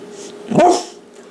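One short, loud bark from a nearby dog, preceded and followed by quiet room ambience, with no voices.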